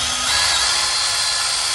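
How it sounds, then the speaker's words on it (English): A power drill bores through the hole of a Yankee clip, a steady loud whine that runs throughout with no speech. "you drill through, make the hole all the same size"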